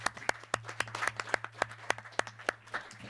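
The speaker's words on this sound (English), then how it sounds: "a big applause for the panel" A conference audience at an international forum session on digitalization and trade gives light, sparse clapping for a panel, individual claps audible in an uneven rhythm, fairly faint.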